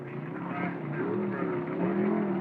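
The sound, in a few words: drag racing super stock cars, Dodge run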